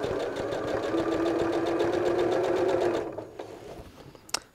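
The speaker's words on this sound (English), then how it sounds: "I'll just kind of sew for a little bit" A sewing machine runs steadily for about three seconds, stitching machine binding onto a quilt with dark thread, close and loud with a rapid even rhythm, then stops, leaving a few faint handling clicks.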